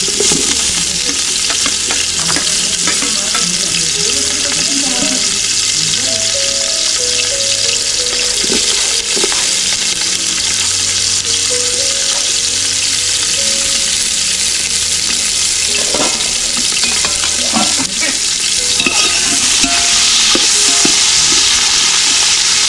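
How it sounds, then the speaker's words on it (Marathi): Onions frying in hot oil on a wood-fired stove, a loud continuous crackling sizzle up close, with occasional stirring scrapes throughout. "हे बघा आता कांदा मस्त भाजतोय"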